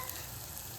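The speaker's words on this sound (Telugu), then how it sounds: "బాయిల్ చేసిన మటన్ లెగ్స్ వేసుకుందాం. నేను వేస్తున్నాను." Boiled mutton legs frying in a pan with turmeric, giving a steady, even sizzle close by throughout the brief moment, with no talking.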